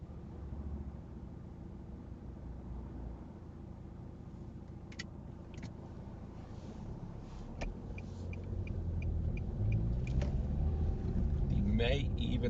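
A learner's car pulls away from a grassy roadside spot on a driving test route in Norris Green, Liverpool, the engine rumble quiet at first and then building as it moves off, with a few faint clicks and an instructor's voice.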